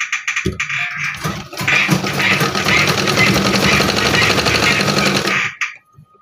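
A sewing machine stitches red cloth pieces for a bedsheet, a rapid mechanical rattle running steadily for about four seconds after a few short starts, close and loud before stopping.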